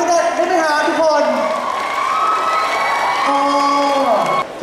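A concert audience cheers and whoops at a debut performance on tour, a dense, loud crowd roar with children's shrieks and shouting that holds steady for several seconds.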